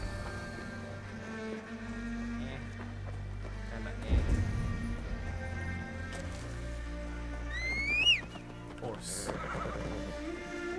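In the Assassin's Creed Valhalla video game, a horse whinnies sharply amid clip-clopping hooves and background game sounds, the neigh standing out loudly toward the end.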